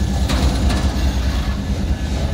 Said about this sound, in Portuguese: Trem graneleiro aí, ó. Vagões graneleiro aí, ó.